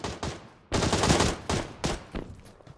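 Gunfire in a PUBG match: several sharp, loud reports in quick succession, a dense burst near the middle followed by a few separate shots, with no talk.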